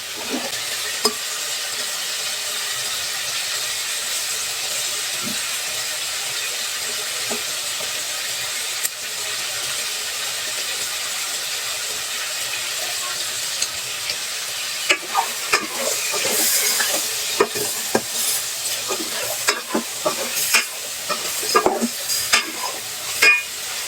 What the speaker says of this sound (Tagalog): Lagyan ko na ng bawang mga kadyo.